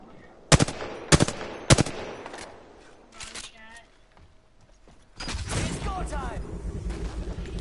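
Video game gunfire in Apex Legends: several sharp bursts of automatic fire in quick succession, then a sustained loud stretch of shooting near the end, with a player talking between the volleys.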